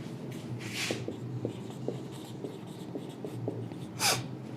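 Marker or chalk writing on a board while drawing a diagram of a fallopian tube, soft rhythmic scratching strokes at close range with a couple of breathy sniffs.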